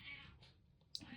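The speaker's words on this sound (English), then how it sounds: "You can hear my cat in the background." A domestic cat meows faintly in the background of a quiet room, a couple of short, soft calls and a brief sharper sound near the end, with no talking.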